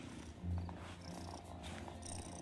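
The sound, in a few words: purring cat in the video game Wylde Flowers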